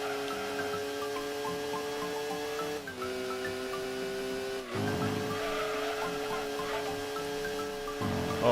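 Race car engines in Gran Turismo 2, a Pennzoil car and an NSX, hold a steady whining drone with gear-shift dips, fairly faint and even, with no talking.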